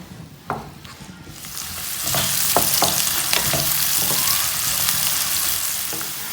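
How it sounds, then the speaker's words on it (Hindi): Onions fry in hot oil, the sizzle swelling into a loud, steady hiss after the first second while a spoon stirs them with repeated scraping strokes close by; no one speaks. "पहले हम ऑयल डाल लेते हैं, प्याज डाल लेते हैं। प्याज को ना हल्का ब्राउन करना है।"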